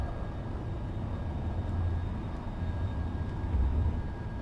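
An airplane taking off in the X-Plane 11 flight simulator, heard as a steady, fairly loud engine roar with low rumbling swells and no talk.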